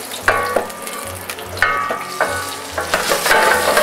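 Roast potatoes sizzle and crackle in a tray with butter, garlic and rosemary while they are tossed, with loud frying spits and scraping stirs repeating close up.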